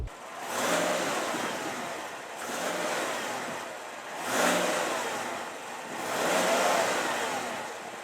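A 2021 Chevrolet Silverado Trail Boss with its 6.2-liter V8 idles and revs outdoors, its exhaust swelling in four rising-and-falling surges heard from a moderate distance.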